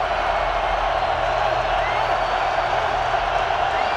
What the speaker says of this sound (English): This Baltimore crowd has been into it from the opening kick.